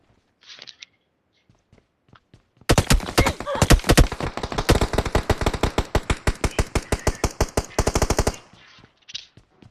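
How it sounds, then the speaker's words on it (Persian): Rapid bursts of automatic gunfire in a multiplayer shooter game, loud and dense, with sharp repeated shots running for several seconds after a few scattered quieter sounds. "پشت منو اسنایپ میزنه"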